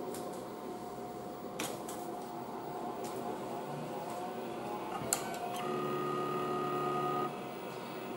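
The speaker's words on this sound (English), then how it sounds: "It's a little bit of a rattle of the heads as it starts up" A retro MFM hard drive in an IBM PC spinning up, with a steady hum and faint rattling head clicks, then a brief tonal whir near the end, quiet and close.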